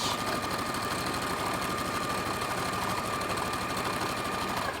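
A sewing machine stitching the edge of a pleated cloth face mask, running steadily and close with a continuous rapid mechanical whir and no pauses.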